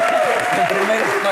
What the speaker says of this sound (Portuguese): Isto, acho que merece palmas. Uma salva de palmas, Bruno.